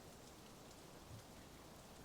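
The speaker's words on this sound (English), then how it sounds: "It's still raining, Sim." Steady rain falls in a continuous, even hiss of drops on a surface, faint and broadband, with no other sounds standing out.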